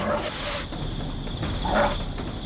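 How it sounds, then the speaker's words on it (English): A Tasmanian devil gives two harsh, rasping barks, separated by a pause of about a second, over a noisy background. "their bite is even worse than their ear-splitting bark"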